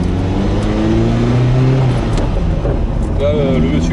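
A Ferrari F40 engine pulls hard and loud, its tone rising through acceleration with a shift-like dip midway, while people talk inside over the roar.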